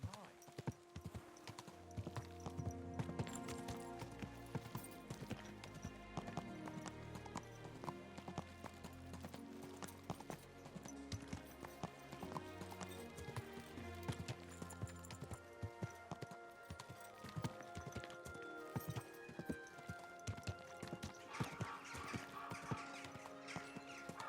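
Steady clip-clop of horse hooves in the video game Kingdom Come: Deliverance II, under a continuous musical score, with occasional voices speaking over the rhythmic trotting.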